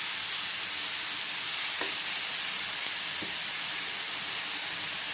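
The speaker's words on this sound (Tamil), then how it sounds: "இந்த மசாலா எல்லாமே எண்ணெயில் வந்து வதங்கி வரட்டும்." Ground masala for prawn curry, with mustard seeds and curry leaves, sautés in hot oil, giving a steady soft sizzle and hiss with a couple of faint stirring clicks.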